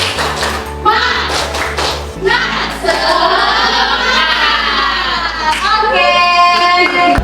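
Classroom students perform a rhythmic spirit clap together, a quick run of loud patterned claps and taps over a steady low beat, followed by kids' voices chanting and a teacher speaking.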